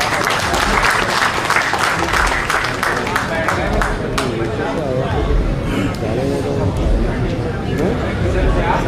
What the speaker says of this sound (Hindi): ये थंडरस अपलॉज जो हो रहे